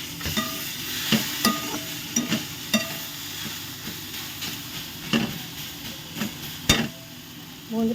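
Water spinach (kolmi shak) stir-fried dry in a pan over low heat, a steady soft sizzle broken by repeated clinks and scrapes of a spatula against the pan, no speech.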